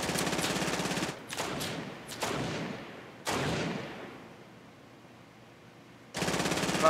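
Bursts of automatic gunfire in the Fortnite video game, several loud volleys with short gaps between them, then a final burst after a quieter stretch.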